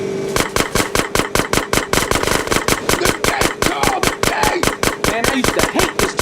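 Rapid, steady automatic gunfire in GTA San Andreas, loud and close, with evenly spaced shots hammering out continuously for several seconds.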